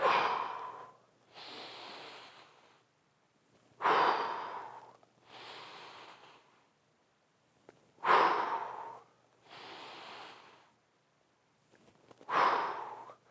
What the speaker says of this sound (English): I like breathing in on the way down on this one. Exhale as I stand back up.